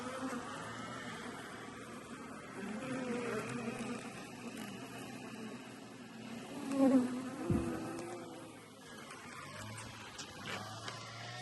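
Bees buzzing inside a beehive in Portugal, a faint, steady droning hum heard close up, with a brief louder knock partway through.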